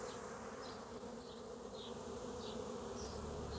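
Bees buzzing steadily around a Kenyan top-bar hive, a dense continuous hum close by with individual insects droning past, no talking.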